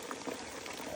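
Blue Bowl Vortex-Pro gold concentrator running at low speed with its water brimming, giving a steady, moderately faint rush and trickle of churning water without a break.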